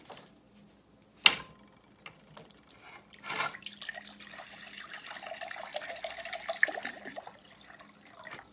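Water runs and splashes steadily into a container for several seconds after a sharp clatter, fairly close and with no talking; four cups of water poured for fermenting pickles.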